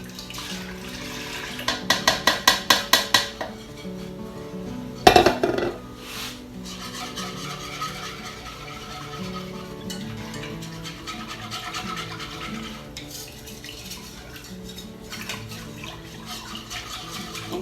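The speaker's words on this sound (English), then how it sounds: "now I'm just going to whisk in my milk and cream" A whisk stirs milk and cream into a pot of stovetop mac and cheese, giving a run of fast rhythmic scrapes against the metal followed by a clank and then softer, continuous stirring and swishing.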